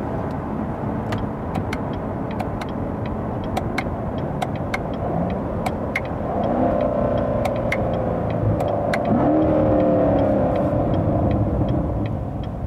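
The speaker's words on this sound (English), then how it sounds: "I'm going to get quiet and let you listen." A 2017 Chevrolet C7 Corvette Stingray's engine rumbles steadily while driving, swelling louder and rising in pitch as the car accelerates in the second half, with no talk over it.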